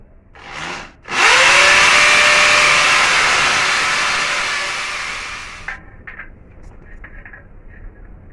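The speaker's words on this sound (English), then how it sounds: "Always make sure your drill's on hammer when you go into concrete." A loud hammer drill bores steadily into concrete for several seconds after a brief start-up whir, then stops, leaving faint clicks and handling noise.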